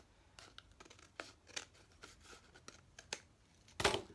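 Paper being cut to size for a journal page with scissors, a quiet series of irregular snips and rustles ending in a louder crisp cut.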